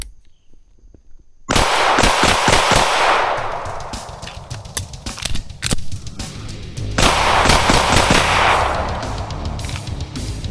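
A Springfield Prodigy pistol fires two quick strings of rounds at a range, sharp close cracks in rapid succession with ringing echoes, after a brief quiet start.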